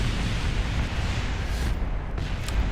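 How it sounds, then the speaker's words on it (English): Rocket stage blowing apart in Kerbal Space Program, a low rumbling explosion that roars continuously at moderate loudness before thinning out with faint crackles. "Oh, good explosion."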